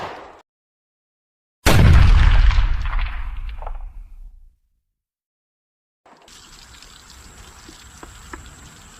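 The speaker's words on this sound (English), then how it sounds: "We're going to take another one of them shots at one of these 2 liters." A Taurus Judge revolver fires a single birdshot round at a 2-liter bottle, one loud close blast with a long decaying tail, followed by quieter outdoor background noise.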